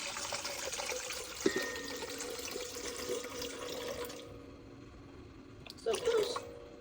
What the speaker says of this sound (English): Now on to 634 grams of water. I'm experimenting this time with warm water.